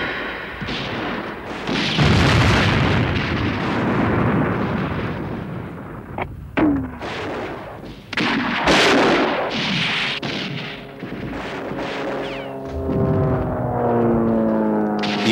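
Artillery fire and bombardment during a Spanish Civil War offensive on the Basque front, with heavy booms and crackling bursts rolling one after another, some loud and close, others distant, and no voices.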